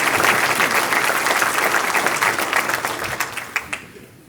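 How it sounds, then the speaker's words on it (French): Applause from the audience at a mayor's New Year speech, many people clapping together at full strength, then tapering into scattered claps as it dies away. "j'aimerais qu'on applaudisse Frédéric et toutes les équipes qui ont travaillé sur le sujet"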